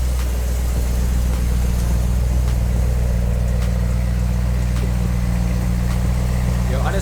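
A BMW M3 with a performance exhaust idles steadily with a deep, low rumble, loud and close, holding an even tone throughout.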